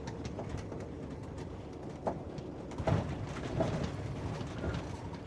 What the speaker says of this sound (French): C'est blindé d'oiseaux ici.